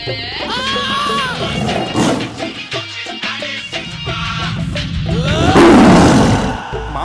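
A tiger roars in a Telugu comedy film scene, a loud, rough, drawn-out roar that swells and builds toward the end, mixed with voices and other film sound.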